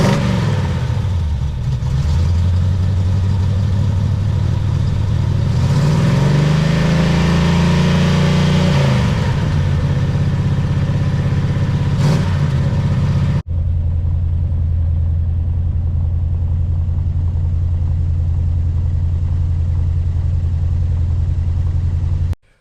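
A vehicle engine, just repaired, runs loud and steady at idle, rising into a revving swell in the middle before dropping back to a settled idle that carries on until it is cut off abruptly.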